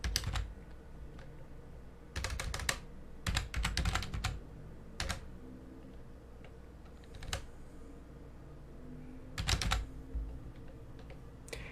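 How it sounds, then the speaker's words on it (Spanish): Someone types a command on a computer keyboard, with several short bursts of rapid, close key clicks separated by pauses, ending with isolated single keystrokes. "Simplemente escribimos netstat"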